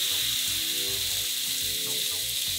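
Steak sizzles loudly in a very hot pan on a stove top, a steady close frying hiss with crackling pops running continuously throughout.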